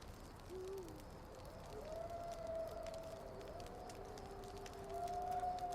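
Wolves howl at night in open country, with long, faint, wavering tones rising and falling at a distance over quiet background hiss.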